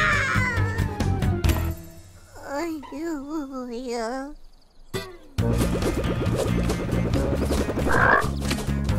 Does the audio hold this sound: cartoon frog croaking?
yes